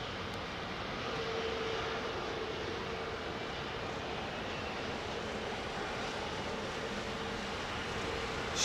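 A heavy jet airliner with high-thrust engines, around 90,000 pounds of thrust each side, roars on Heathrow runway 09R, a broad sustained rumbling roar that swells slightly and holds steady throughout.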